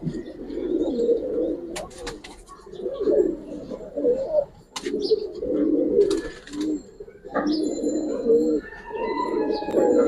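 Giribaz and coloring pigeons coo in repeated throaty phrases close by, with a few sharp chirps and clatters in between.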